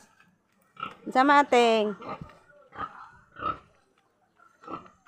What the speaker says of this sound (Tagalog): Ang baboy namin umiiyak.